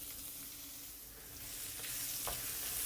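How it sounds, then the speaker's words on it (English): Minced young ginger fries in about two tablespoons of hot oil in a wok, a steady close sizzle that swells gradually louder, with a couple of brief sharp crackles near the end. "We'll fry them for a while until they are fragrant."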